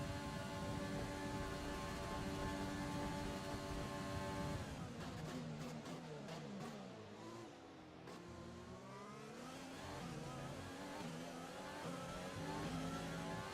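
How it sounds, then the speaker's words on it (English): An F1 car engine in F1 2020 holds a loud high whine, then revs up and down through gear changes, a second car's note rising and falling close by, with no talk. "Mercedes' engine is quick in a straight line."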